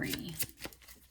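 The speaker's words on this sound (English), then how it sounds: "Let me shuffle this 3 times." A quick riffle of tarot cards being shuffled, a few soft papery flicks close by.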